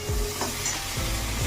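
Potatoes frying in a pan of oil with a steady sizzle, alongside a few low scraping stirs, as the cook prepares a travel-friendly snack with cauliflower.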